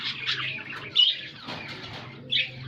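An angry female pet bird guarding two eggs in an aviary lets out a few harsh, high squawks spaced apart over a steady low background hum.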